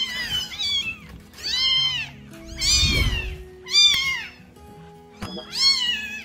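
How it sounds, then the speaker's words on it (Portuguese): An abandoned newborn kitten meows about five times in a row, high, thin and insistent cries with short pauses between, heard up close with a brief soft thump partway through. "os cuidados que vocês devem ter com gatinho recém-nascido"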